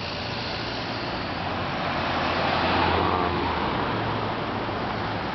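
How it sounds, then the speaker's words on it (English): A car passes through a residential neighborhood, its broad tire and engine rush swelling to a peak midway and fading slowly, heard close and alone. "After this car goes by."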